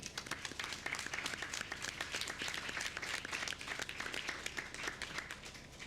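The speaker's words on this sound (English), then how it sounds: "So please join me in giving Sarah a round of applause." Fairly quiet, steady applause at a school board meeting, many hands clapping in a continuous, evenly sustained round with no talk over it.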